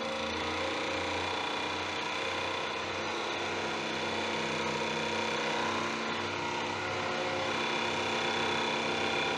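A wood lathe spins at 2000 rpm turning a deer antler fountain pen blank, giving a steady, continuous mechanical whir and hum with a bright tonal whine that holds even throughout.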